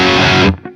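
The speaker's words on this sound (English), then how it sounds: "It's finally time to move on to the high gain section." A heavily distorted electric guitar chord played through a Boutique Tones MT15 amp's high-gain section rings out thick and saturated, then cuts off sharply, leaving a brief buzzing tail.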